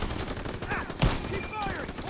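Gunfire in the World War II shooter Call of Duty WWII, with a busy wash of battle noise, one sharp loud report near the middle, and shouted voices over the din.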